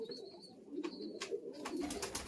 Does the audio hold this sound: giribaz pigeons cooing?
yes